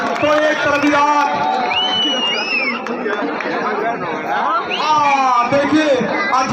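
A crowd at an open-air desi wrestling dangal in Sarnath, Varanasi, keeps up loud, continuous chatter with scattered cheers and whoops all the way through.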